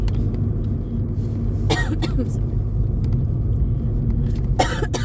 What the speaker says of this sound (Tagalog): hindi talaga ako nilulubayan ng aking ubo